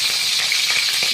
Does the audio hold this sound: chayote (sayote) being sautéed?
yes